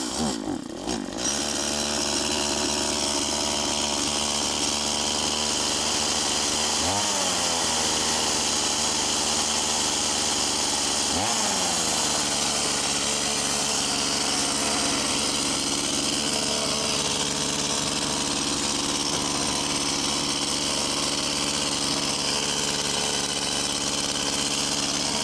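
Stihl chainsaw running continuously on a frozen lake in Yakutia in December, a loud, steady buzzing drone with a couple of brief dips in engine speed.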